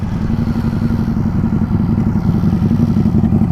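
A Bajaj Pulsar RS400 motorcycle engine drones steadily at speed while racing a Harley, a loud, continuous low throbbing rumble recorded close, with no talk.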